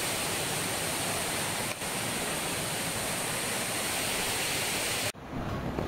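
A steady, loud rushing roar of the Dalasari waterfall on Mahendragiri hill near Mandasa, Srikakulam, heard up close and unbroken until it cuts off sharply near the end.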